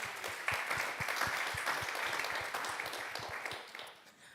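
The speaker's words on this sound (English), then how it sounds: "Round of applause to everyone on the New Real team." Audience applause for the New Real team at a studio gathering, a steady bed of many hands clapping with some louder individual claps near the front, fading off at the end.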